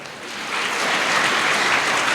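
An audience at a Kannada spiritual discourse claps, the applause swelling into a steady, dense patter that continues throughout.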